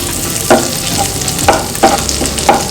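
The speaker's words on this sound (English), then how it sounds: "You need to fry the ginger and garlic properly so that the raw smell is gone" Crushed garlic and ginger paste frying in a pan for a restaurant-style paneer dish, a loud, close sizzle with a handful of sharp spatula scrapes spaced about half a second apart.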